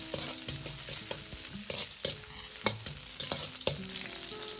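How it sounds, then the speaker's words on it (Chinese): Scallion, ginger and garlic stir-fry in a little hot vegetable oil in a wok, a moderate continuous sizzle broken by repeated rhythmic clanks of a spatula scraping and tossing, close by, with no voices. "锅中再次放入少许的植物油，油热后先下入葱姜蒜，"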